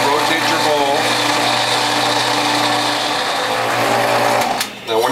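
A WHF juicer with a stack cutter grinds fibrous greens, its motor holding a steady, close whirring drone for several seconds while someone talks over it, before a brief dip near the end.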